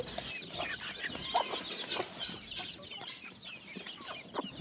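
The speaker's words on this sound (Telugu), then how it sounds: "ఇవి కలర్స్ ఉండేటివి నాటుకోళ్ళు అనమాట అవి కొంచెం చిన్నగా ఉన్నాయి" Small, multicoloured native country chickens cluck on a farm in a steady, overlapping chatter of close and mid-distance hens, continuous for several seconds with no talking.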